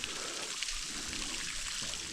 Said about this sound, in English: Another little waterfall here.